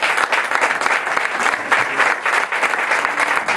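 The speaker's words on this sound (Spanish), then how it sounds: "Denle un aplauso" Steady applause from a church audience welcoming a visiting prophet at a Christian service, dense clapping filling the space evenly for the whole stretch, loud and close with no voices over it.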